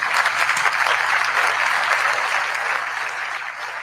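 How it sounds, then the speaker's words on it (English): An audience at a community gathering gives a round of applause, a dense wash of clapping that is loud at first and gradually tapers near the end. "let's give them a big round of applause, please"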